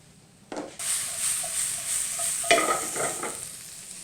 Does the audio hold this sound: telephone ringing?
no